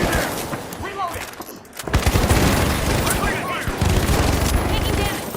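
Rapid video game gunfire with KS23 shotgun blasts and RPG explosions, loud and dense, with bursts of booms and firing throughout, while players talk over the action.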